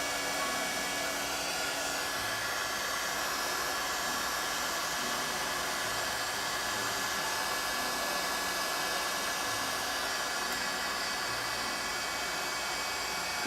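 A hair dryer blows steadily and close, drying watercolor paint with Manganese Violet, a continuous broadband rush that holds even for the whole stretch with no pauses.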